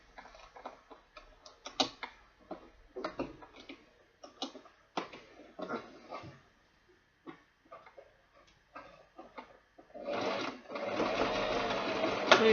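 A sewing machine stitching an ankara leather bag near where the foam ends makes scattered clicks and ticks of handling, then settles into a steady, close run of rapid stitching at the end.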